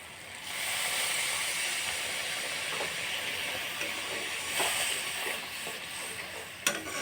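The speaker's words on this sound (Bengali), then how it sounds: "এবার একটু জল দিয়ে দেব।" Water poured onto sizzling spice masala in a pan, a sudden loud hissing sizzle that settles into a steady bubbling steam with a few stirring scrapes and a sharp clink near the end.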